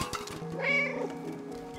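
A cat meows once in the video game Stray, a clear drawn-out mew standing alone over a low hum of background music.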